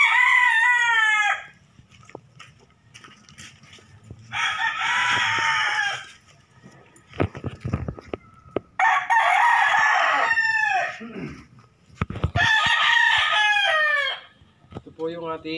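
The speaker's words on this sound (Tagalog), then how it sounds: "Ito po yung ating bagong manok." A rooster crows loudly several times in bursts, with chickens clucking in the pauses between calls, close by and outdoors.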